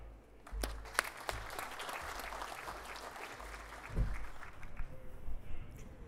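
Audience applause at the Sea Power Conference 2015 welcomes a speaker to the stage: steady clapping throughout, with a brief swell near the four-second mark and no talk over it.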